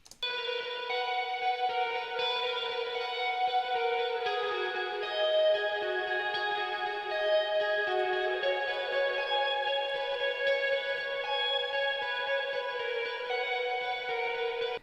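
A higher lead line carries a counter melody in a folk pop song, playing sustained notes over a spacious, reverberant backing with no voice on top.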